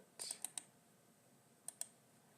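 Computer keyboard keys tapped for cut and paste shortcuts, a few sharp close clicks in two quick clusters with short pauses between, faint and clear over a quiet background.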